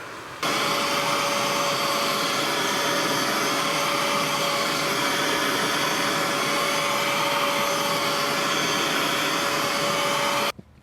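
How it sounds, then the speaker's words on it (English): A carpet extractor runs during truck interior detailing, sucking up soap in a loud, steady, close whine that starts abruptly, holds unbroken for about ten seconds, then stops. "I'll grab my extractor and start sucking up the soap"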